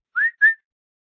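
A person gives two short rising whistles in quick succession to call a cat, clear and close, with silence after.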